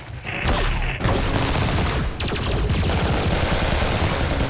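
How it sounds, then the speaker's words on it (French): Rapid automatic gunfire from a film battle scene of an alien invasion: dense, loud bursts of machine-gun fire roll on continuously with almost no pause. "On nous tire dessus!"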